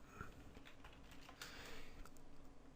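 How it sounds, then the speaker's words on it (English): Quiet typing on a computer keyboard, a steady patter of soft key clicks close by with faint room noise, no talk. "you could go to Fiverr.com, and you could type in something like"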